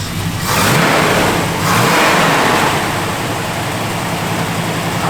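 A 1971 Chevrolet Nova SS engine revs loudly and close up, two quick throttle blips rising and falling before settling into a steady, rumbling idle.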